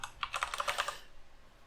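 Close computer keyboard typing of a password during a Delphi/Lazarus database tutorial, with a quick run of about a dozen crisp keystrokes that stop after about a second, then quiet room tone.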